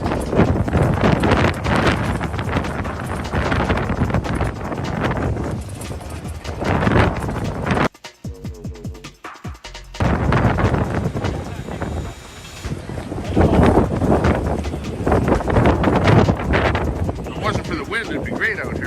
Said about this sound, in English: It's pretty windy out here today.